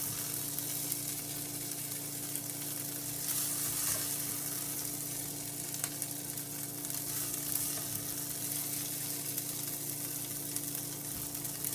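Andouille sausages sizzle and fry steadily in a pan, a dense, continuous crackle close to the microphone with no talking over it.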